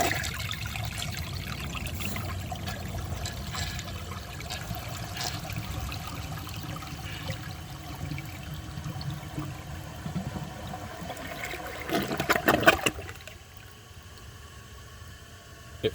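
A 2004 Gerber Aqua Saver toilet flushes with a steady rush and trickle of water for about twelve seconds, swelling into a louder gurgling siphon before cutting off into a quiet refill hiss.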